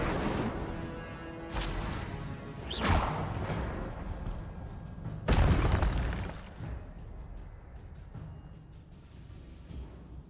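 Incendio fire spell cast in the video game Hogwarts Legacy: a few whooshing bursts and booming fiery blasts over a low game backdrop, the loudest near the middle, then fading into quieter ambience.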